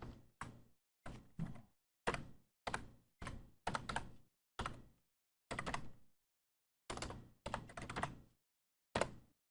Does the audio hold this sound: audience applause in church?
no